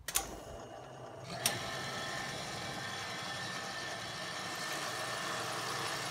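A milling machine converted to separate motors takes a heavy 250 thou deep cut on a T-nut, a steady loud mechanical drone with a couple of sharp clicks near the start, running alone without talk.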